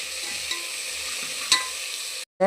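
A steady sizzle of turkey berries sautéing in a hot pan, with a couple of sharp scrapes from stirring, cut off by a brief pause at the end.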